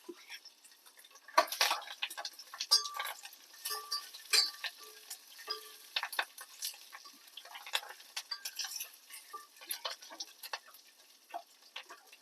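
Cashew nuts frying in a pan with oil, soft crackling sizzle and light ticking scrapes of a spoon stirring, fairly quiet and close, with no talking.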